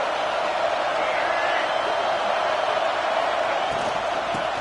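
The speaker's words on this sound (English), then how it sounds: "This crowd trying to make life miserable for this offense" Steady, dense stadium crowd roar from a Madden 26 football game, a constant wash of noise throughout with faint whoops rising from it, no distinct pauses.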